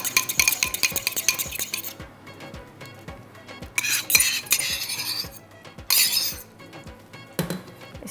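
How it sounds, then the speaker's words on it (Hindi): Yogurt and cream are whisked in a bowl with quick, regular metallic clinks against the side, close and fairly loud, with a few brighter scraping swishes between the strokes. "अब हम लेंगे यहाँ पर दही और क्रीम, ठीक है। इसको फेंट लेते हैं"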